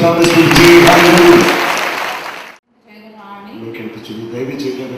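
A church congregation claps loudly for a couple of seconds, breaks off abruptly, then a voice speaks over quieter room sound.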